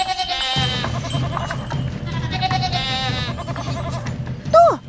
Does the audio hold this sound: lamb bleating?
yes